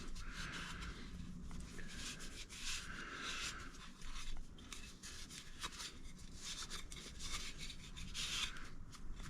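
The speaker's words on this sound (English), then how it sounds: "I hit the outside with the wire wheel real quick also" A wire wheel scrubs caked dirt and grease off a part from a Toro TimeCutter SS5000 zero-turn mower, making a steady close-up abrasive rasping and rubbing with uneven surges over several seconds.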